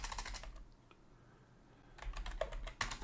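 Computer keyboard typing for a CAD plan-structure entry, with a quick burst of keystrokes, a short pause with a lone click, then another rapid run of taps, close and fairly quiet.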